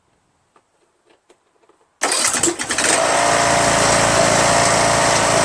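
A Troy-Bilt lawn tractor with a Briggs & Stratton 21 HP Intek engine cranks briefly after a few faint clicks, then catches and settles into a loud, steady close-up idle roar; a voice speaks briefly at the start.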